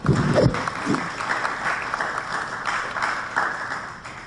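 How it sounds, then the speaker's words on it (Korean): Audience applause at an academic symposium on East Asian society and the Catholic Church, greeting a history professor as he comes to speak; steady broadband clapping from a seated crowd fills the hall, moderately loud throughout with a few voices near the start. "큰 박수로 맞이해 주시기 바랍니다."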